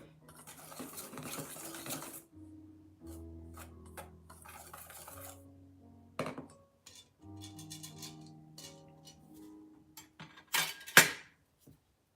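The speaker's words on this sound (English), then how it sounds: "I've got a whisk and I'm just going to mix it up just so the baking powder is incorporated into the" A whisk stirs baking powder into flour in a bowl, making soft, quiet scraping and light clinking, with pauses between bursts of mixing.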